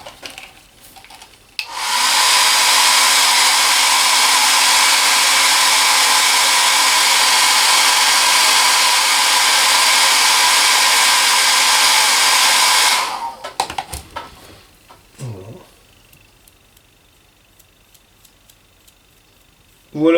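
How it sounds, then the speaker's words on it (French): A hair dryer blows steadily on freshly applied decals on a scale model kit, loud and close for about eleven seconds before switching off, followed by faint handling noises. "Bon, un petit coup de sèche-cheveux."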